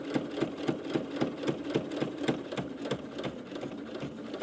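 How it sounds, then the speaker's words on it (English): A sewing machine runs steadily with a fast, even needle patter as it stitches and back stitches fabric for a foldable grocery bag, close and continuous without voices. "Automatic back stitch on there,"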